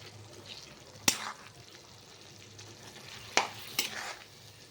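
Quiet sizzling in a pan with a few sharp scrapes and clinks of a spoon as fenugreek greens with lentils are stirred, close by and without talking.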